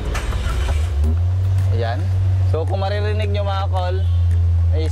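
Suzuki DA17W with a straight-pipe exhaust, its engine idling as a loud, steady low rumble that runs throughout, with someone talking over it.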